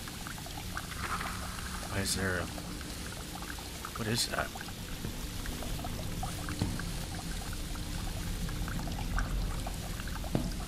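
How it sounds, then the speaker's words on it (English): Water pouring somewhere nearby in the horror game Lazaret, a steady liquid wash running under a low ambient drone, with someone talking over it intermittently. "Water."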